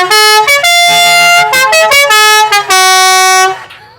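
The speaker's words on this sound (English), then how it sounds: "this one actually has musical horns, so it's musical horns" Musical horns on a classic Auburn-Cord-Duesenberg car play a loud, close run of bright tuned notes in shifting pitches, several short blasts then one long held tone that cuts off, with no talking over them.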